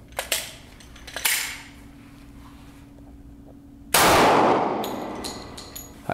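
A .45 ACP round, a 185-grain solid copper hollow point at 990 feet per second, fired into body armor during a torture test gives one loud sharp blast with a long ringing tail, preceded by several lighter metallic clanks.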